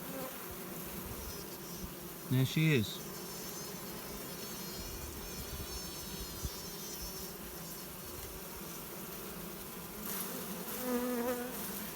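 A dense, steady hum of honeybees, including nurse bees, buzzing around a caged breeder queen fills the whole stretch, with a few brief louder whines and a short spoken remark partway through.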